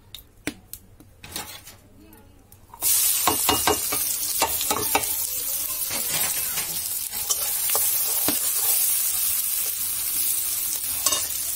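Fish head and onion fry in plenty of hot oil in a pan: after a few sharp clinks, a loud, steady sizzle begins and keeps going, dotted with stirring scrapes and taps, while someone talks quietly.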